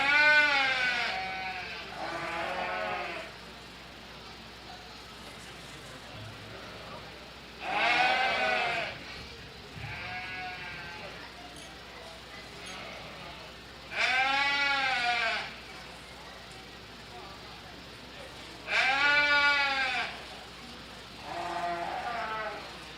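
Sheep bleat at a county fair sheep and lamb show in Dickinson County, with five or six long, wavering calls that come in clusters and stand out clearly over a low background of hall noise.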